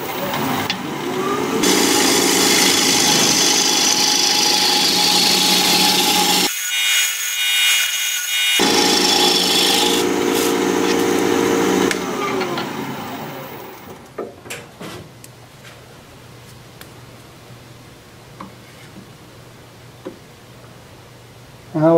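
Wood lathe hollowing out the center of a wooden turning, a loud continuous scraping, cutting whir for about twelve seconds with a short pause, then the motor spins down to a quiet hum with a few faint taps.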